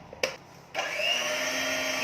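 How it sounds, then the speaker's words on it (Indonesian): A stand mixer on low speed kneads bread dough for a soft cheese bakery bread, its steady motor whir starting after a brief clatter and running continuously, close and fairly loud, with no talking. "Kita lanjut mixer lagi sampai kalis sempurna"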